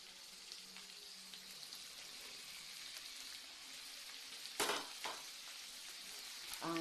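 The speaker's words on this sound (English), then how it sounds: "Now I'm going to add my sausages." Sausages frying in a pan for a plantain and egg frittata, a soft steady hiss of sizzling oil with a sharp clatter near the end, close but quiet, no voices.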